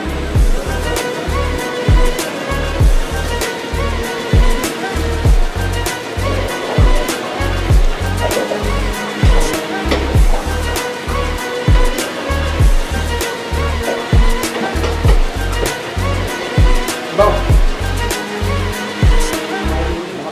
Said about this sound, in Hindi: अब आप देख रहे हैं बिल्कुल फ्राई हो रहा है